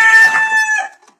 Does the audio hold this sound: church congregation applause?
no